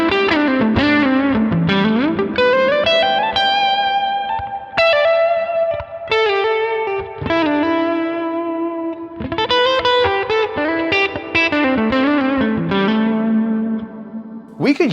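Electric guitar run through a Line 6 Helix Retro Reel tape simulator with saturation and reverb, playing sustained melodic phrases and chords with a warm, slightly distorted, echoing tone, loud and continuous.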